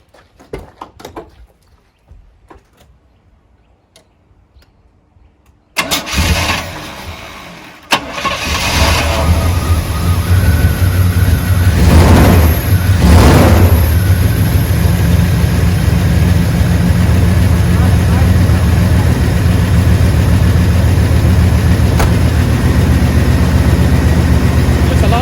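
A car engine with throttle-body injection cranks after a few quiet seconds, catches and settles into a loud, rough, uneven idle with at least one cylinder misfiring, running steadily alone with no talking.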